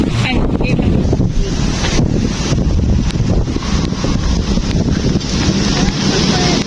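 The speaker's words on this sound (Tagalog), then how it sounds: "Grabe ang ganda ng hangin." Strong wind buffets the microphone outdoors in Makati, Philippines, in a loud, continuous roar with gusty rumbling, and voices are faintly audible beneath it.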